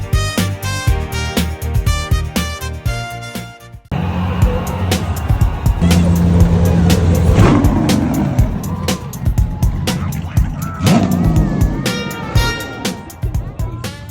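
Race cars roar at the Cape Town Speed Classic, with loud engine bursts and passes rising over a busy crowd and music for most of the stretch. Voices talk over the noise.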